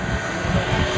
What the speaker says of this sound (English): That's the airplane of Kevin Coleman